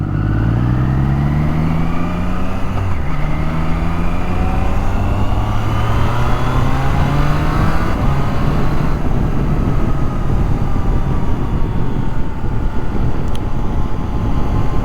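A Triumph Tiger Sport 660 motorcycle ridden in sport mode, its engine loud and close as it climbs through the revs, shifts gear and pulls hard again, with steady wind rush over the microphone.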